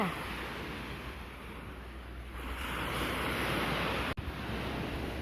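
Sea waves wash steadily onto a clear tropical beach, a constant broad roar with heavy wind buffeting the microphone and a swell in loudness midway.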